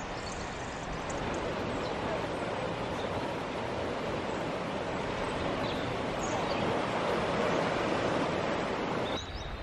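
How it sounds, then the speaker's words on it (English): Gentle waves lap continuously at the shore of Porthgwarra cove in Cornwall, a steady close wash of surf with soft wind, no distinct breaks and nobody speaking. "Look at the gentle lap of the water."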